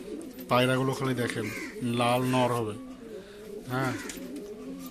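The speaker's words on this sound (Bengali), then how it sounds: "পায়রাগুলো খালি দেখেন, লাল নর হবে।" Domestic Giribaz pigeons, including a red male, coo close by in three deep, rolling bursts, with a person briefly speaking among them.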